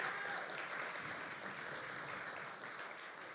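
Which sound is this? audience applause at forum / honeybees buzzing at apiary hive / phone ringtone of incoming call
audience applause at forum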